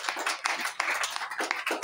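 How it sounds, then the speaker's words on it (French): Church congregation applauding after a reading, a dense patter of many hands clapping in uneven bursts, moderately close, with no talk. "Applaudissez pour la lectrice."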